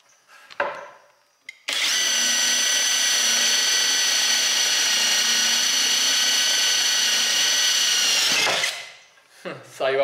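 A power drill fitted with a Fura Tudo Max Furos bit bores into wood, giving a loud, steady high whine for about seven seconds, with brief handling knocks before and after.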